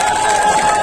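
Large crowd at a political rally in Madhya Pradesh, dense continuous clapping and cheering, loud and close throughout with no gaps.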